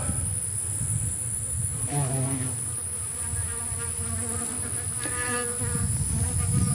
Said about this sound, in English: They're just buzzing all around me here.